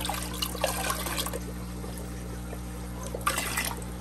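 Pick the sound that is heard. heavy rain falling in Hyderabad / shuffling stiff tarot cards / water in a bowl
water in a bowl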